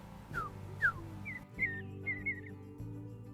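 A person whistles an imitation of a bluebird call: a handful of short, sliding whistled notes, some paired, over a steady low background hum.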